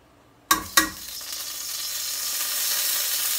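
Ginger dropped into hot oil for a goat stew, two sharp bursts of sizzling at the start settling into a steady, loud frying hiss that builds slightly and continues alone.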